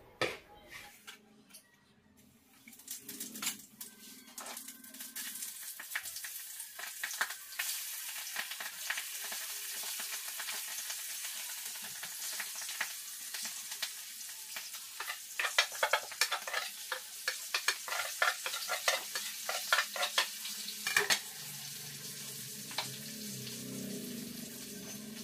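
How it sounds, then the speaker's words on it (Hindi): Green chilies and gram flour fry on a low flame in a steady, close crackling sizzle that rises after a quiet start, with a few light clicks and clatters on top. "जब हमारी मिर्च पकती है बिल्कुल सिम आंच में तो बेसन भी पक जाता है।"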